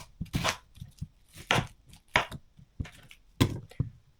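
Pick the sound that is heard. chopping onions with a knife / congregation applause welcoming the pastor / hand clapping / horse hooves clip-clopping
chopping onions with a knife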